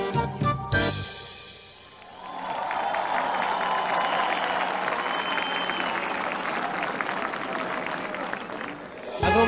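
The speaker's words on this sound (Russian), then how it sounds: "Спасибо огромное за ваши аплодисменты" Concert crowd on Victory Day in Sevastopol breaks into sustained applause after a brief pause, the clapping swelling into a steady, even roar with faint crowd noise underneath.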